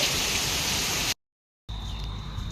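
Heavy rain pours over rice fields during a windstorm, a dense, loud steady hiss that breaks off briefly to silence and then resumes just as strong.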